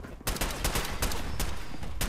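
Rapid gunfire aimed at a super mutant in the Fallout 4 video game, a loud dense burst of repeated shots running almost continuously for about two seconds after a brief quiet start.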